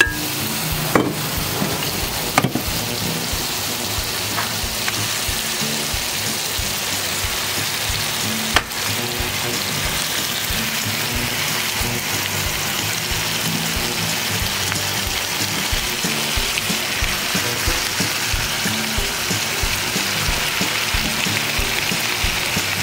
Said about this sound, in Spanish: Ahora sí vamos a echar nuestras presas de cabrillo bien.